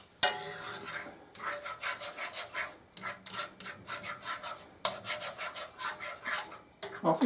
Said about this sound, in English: just quite vigorously stir it in